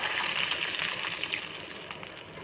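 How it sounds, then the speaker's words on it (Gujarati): Water is added to a pan of tomatoes and vegetables for Punjabi-style Maggi noodles, a steady rushing pour that lasts the whole moment, close and fairly loud, with no speech. "હવે તેમાં પાણી એડ કરીશું."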